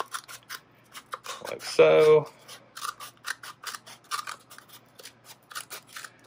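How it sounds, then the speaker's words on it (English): Scissors trimming around a homemade mold for casting an action figure head, with a run of quick snipping cuts and a louder rubbing scrape midway, while someone speaks briefly. "I just trim it around with the scissors."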